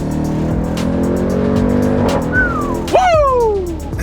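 A 2019 Jeep Grand Cherokee Trackhawk accelerates hard, its engine building to a loud, piercing rising whine, with a sharp tire squeal near the end while passing other traffic.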